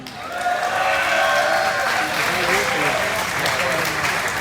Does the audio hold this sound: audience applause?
yes